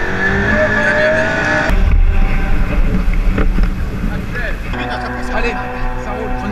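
A McLaren P1 drifting, its engine roaring loud and close with squealing tires, while voices talk over the noise.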